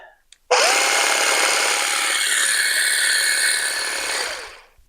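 A Makita cordless grass trimmer whirs up abruptly and runs at a steady high-pitched buzz for several seconds before winding down, close and loud.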